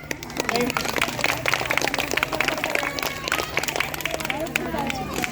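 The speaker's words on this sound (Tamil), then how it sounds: "இந்த குழந்தைகளுக்கு அனைவருக்கும் பலத்த கரகோஷம்" Audience applause after a children's dance performance at a school annual day celebration, dense continuous clapping with crowd murmur and a low hum underneath.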